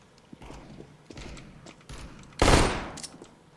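Uzi submachine gun fire in a live-streamed shooter video game, a handful of sharp shots scattered across the moment and then one loud, close burst near the end.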